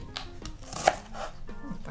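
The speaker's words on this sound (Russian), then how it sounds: "Лук тоже режу на несколько кусочков." A knife chops an onion into a few pieces on a board with a handful of dull, irregular thumps at close range, no talk.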